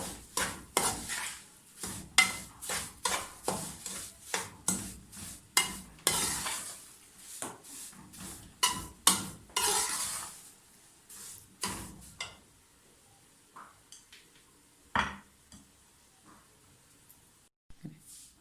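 Flour roasting in ghee for Punjabi panjiri is stirred with a spoon in a pan, a rhythmic series of close scraping strokes with a soft sizzle, slowing and thinning out toward the end.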